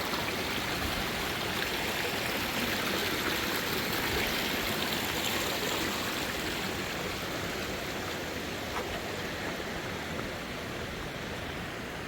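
A cold stream rushes steadily over rocks near waterfalls, producing a dense, continuous broadband roar of flowing water that stays loud and even throughout with no voices.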